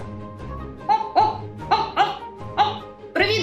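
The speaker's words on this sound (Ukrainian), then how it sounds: "Знайомтеся, це мій друг, пес пан Каштан" A dog barks close by, five or six sharp, high barks in an uneven rhythm, with a quiet murmur underneath.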